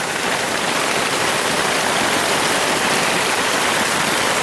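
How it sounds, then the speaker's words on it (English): Heavy rain pours steadily and loudly, a dense unbroken hiss of water with no pauses or voices. "you can probably hear that it is raining a whole lot more now"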